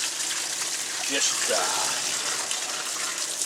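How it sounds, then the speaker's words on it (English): Tap water runs steadily into a sink plugged with a makeshift stopper, a continuous gushing splash close by, with someone speaking briefly over it. "we're going to go ahead and just get the water, not even tepid."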